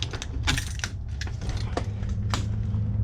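Metal keys clink and rattle against a Ford steering column as the ignition key cylinder is pushed in and pulled out, a few close, sharp jingles and taps over a steady low hum.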